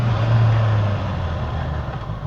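A Honda CBR650R E-Clutch motorcycle slows at low speed under its rear brake; a loud, steady low engine hum holds briefly, then drops and eases off beneath broadband wind and road noise.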